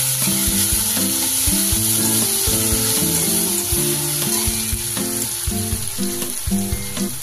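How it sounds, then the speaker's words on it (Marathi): Fresh coriander sizzles and crackles steadily in hot oil as a tempering for aamti, a continuous close frying hiss with stirring and faint utensil knocks, no voices. "कोथिंबीर पण फोडणीतच टाकायची तेलामध्ये."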